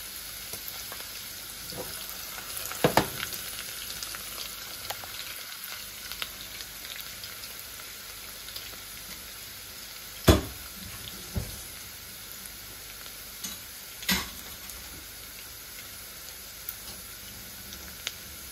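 Garlic and five-spice sizzle steadily in hot oil, with occasional sharp clatters of a spatula or utensil against the pan, close and continuous, no talk.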